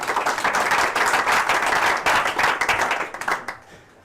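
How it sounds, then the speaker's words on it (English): Audience applause at a photography talk, a dense round of clapping from a crowd that holds steady for about three seconds, then thins out and fades. "Round of applause."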